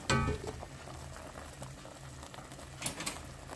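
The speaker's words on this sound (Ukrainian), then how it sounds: "Ось так закипіло." Pork belly in salted brine with onion skins comes to a boil in a pot, a soft, steady bubbling with a few louder pops and a faint clink near the start.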